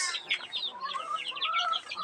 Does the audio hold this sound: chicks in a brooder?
yes